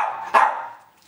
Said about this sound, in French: Eh bien, mon chien.